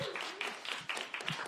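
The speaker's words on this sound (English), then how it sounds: "can we get a round of applause for that?" Scattered hand claps from a small audience at an interview, fairly faint, with a few sharper bursts over a quiet background murmur.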